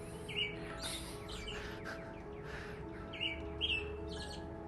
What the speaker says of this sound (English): And of course the birds behind me.